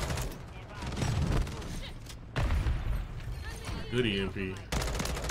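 Full-auto M16 fire in the video game Modern Warfare 3, rapid bursts of loud close gunshots spread across several seconds amid game effects and brief beeping tones, with someone talking over it.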